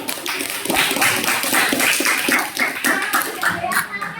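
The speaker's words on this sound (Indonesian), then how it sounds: "Tepuk tangan dulu buat Andika ya." Classroom applause for a student, a burst of many hands clapping in a busy rhythm that runs nearly the whole time, fairly loud and close, with some voices mixed in.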